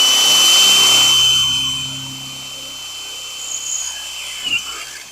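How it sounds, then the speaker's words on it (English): A power drill bit bores into metal while building a DIY high tunnel, the steady whining buzz running loud at first, then easing off and thinning out, ending with a few small clicks. "I'm letting the drill bit do all the work"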